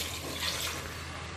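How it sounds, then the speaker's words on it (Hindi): Water pours steadily from a cup into mutton curry in a pressure cooker, a short continuous splashing rush at close range. "1 कप और ऐड कर रहा हूँ मैं पानी।"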